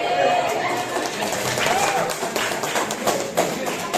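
A class of schoolchildren claps hands in a classroom, a scattered burst of quick irregular claps that thins out toward the end, with children's voices and chatter mixed in.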